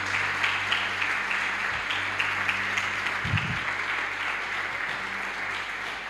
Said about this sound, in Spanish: No sé yo si amerita un aplauso al Señor